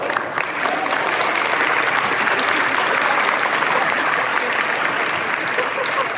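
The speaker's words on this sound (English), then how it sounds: "Give her a big round of applause." Large audience applauding at a Model United Nations closing ceremony in London, a loud, sustained, even roar of many hands clapping together, steady from start to end.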